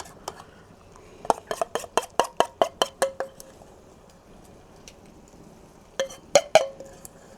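Metal utensil clinks and scrapes against a kadai over live fire as the remaining mixture goes into a chicken curry, a quick run of sharp taps, a pause, then a few more knocks, close and fairly clear.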